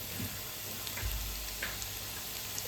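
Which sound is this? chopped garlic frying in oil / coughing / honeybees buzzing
chopped garlic frying in oil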